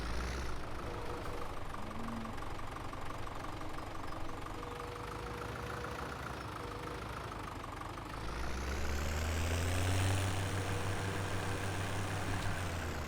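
A tractor engine idles in Farming Simulator 17, a steady continuous rumble with a slight shift and rise in pitch about two-thirds of the way through, heard alone without talk.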